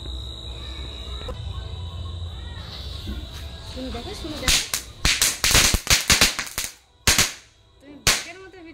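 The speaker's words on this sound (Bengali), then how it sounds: "কি বাজি ফাটানো দেখা হচ্ছে।" Diwali firecrackers burst in a rapid string of sharp cracks and pops, loud and close, after a stretch of background chatter and a high steady whine; a few isolated bangs follow with short gaps between them.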